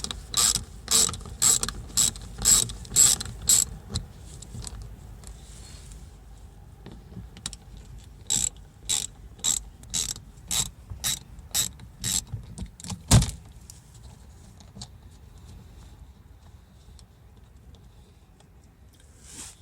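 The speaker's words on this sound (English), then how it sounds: "And then it's time for my 8mm socket stuff." A ratchet with an 8mm socket clicks in quick bursts while working on a 2016 Mazda 3 during an oil change, sharp close pawl ticks in repeated runs with pauses and a clunk between.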